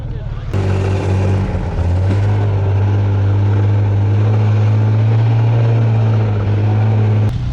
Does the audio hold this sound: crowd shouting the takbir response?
no